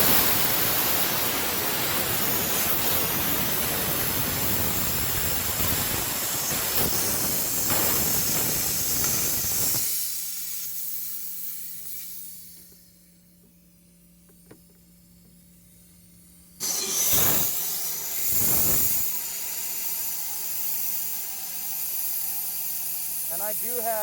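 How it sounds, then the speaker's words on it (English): Loud, steady hiss of pressurized air and water blasting through the drain valve of an air compressor tank into a Lexan container, fading to near quiet before a second burst erupts and keeps roaring close by. "we're going to lift that compressor out to where the drain valve goes over the Lexan container, and we're going to drain it"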